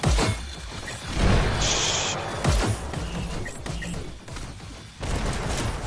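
Rocket launcher fire in a multiplayer video game, several sharp bursts and crashing blasts scattered through a busy, loud stretch of game action with no talk.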